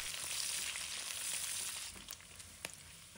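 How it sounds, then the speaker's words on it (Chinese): Dried chilies and pork being stir-fried in oil rendered from the pork, giving a steady, close sizzle with a few sharp clicks from the stirring utensil near the end. "把辣椒干和肉一起炒"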